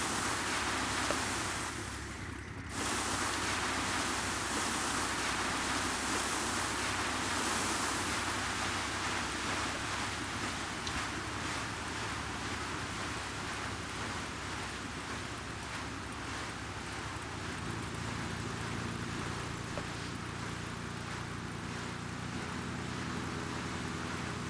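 A Cessna 185F amphibian floatplane settles onto water in the FS9 flight simulator, a steady engine drone blended with a broad wash of water and wind noise that runs on evenly for the whole stretch, a brief dip near the start.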